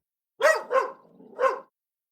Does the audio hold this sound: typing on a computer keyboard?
no